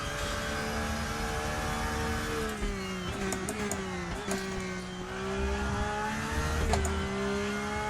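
A Porsche race car in RaceRoom circles Donington Park, its engine a steady, loud droning whine that dips and climbs with shifts and throttle changes, with small clicks and bumps over the top.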